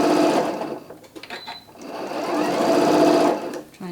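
A sewing machine with its needle centered stitches a curvy bag, a loud, close, rapid mechanical whir that runs in bursts, pausing briefly and then driving steadily again.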